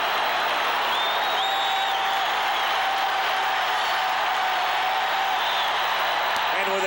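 A packed ballpark crowd at Game 1 of the 1985 World Series, Cardinals at Royals, rises and roars on a full-count ball four; a dense, steady wall of cheering and applause fills the whole stretch, loud and sustained.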